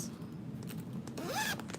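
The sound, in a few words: zipping up a zippered pocket on a handmade bag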